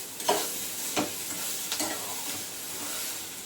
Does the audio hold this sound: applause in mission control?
no